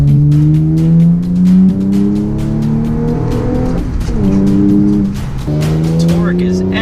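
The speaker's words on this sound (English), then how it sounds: "This V6 is balanced and refined. Its power is so broad and linear." A 460-horsepower Audi S4 with a V6, six-speed manual and all-wheel drive accelerating, its steady engine tone rising in pitch through the gears under someone talking, with a dip around a shift partway through.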